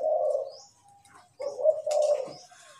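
Deep-voiced spotted dove cooing in two bursts separated by a short gap, the low rolling notes close and prominent, with faint chirps in the background and no speech.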